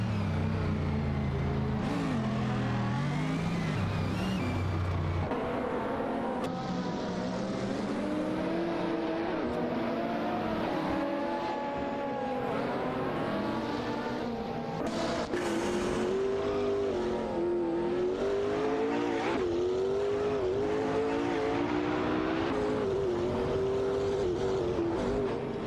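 Race car engines in an AI racing video game, including a McLaren 675, wailing continuously and loudly, with revving pitch sweeping up and down as the cars shift and chase each other closely.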